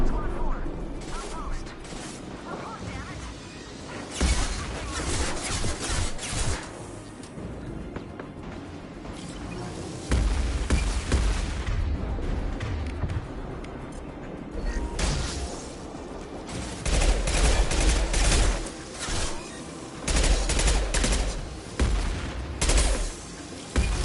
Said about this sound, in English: Where the fuck is he shooting?